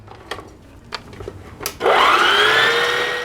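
Electric stand mixer starts up kneading whole wheat and oatmeal bread dough, a loud steady motor whir with rising pitch, preceded by a few brief knocks and clatters.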